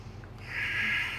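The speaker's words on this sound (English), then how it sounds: "Stay in here for 2 more breaths." A single deep, slow breath drawn during a yoga pose, a soft airy rush swelling midway and holding steady to the end, close and quiet with no talking.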